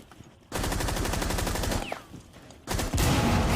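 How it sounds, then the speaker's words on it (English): Bursts of rapid gunfire in Rainbow Six Siege as bullets pepper a shield, a loud dense rattle lasting over a second, a short lull, then another fierce burst near the end. "Peppering bullets over the top of the shield."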